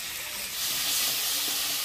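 Spice paste with turmeric, salt, ginger-cumin paste and cut potatoes frying in hot oil for a village-style ridge gourd and potato curry: a steady, bright sizzle that swells slightly, close and alone.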